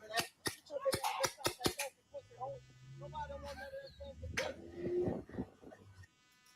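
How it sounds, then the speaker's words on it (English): A paintball gun fires a rapid string of sharp pops close by, then people talk over a low hum. "Use the paintball gun on this girl."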